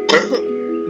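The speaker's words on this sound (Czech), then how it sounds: "Omlouvám se, že furt kašlu" A short, sharp cough from a girl with a cold, close to the microphone, a quick double burst that trails into a faint hum.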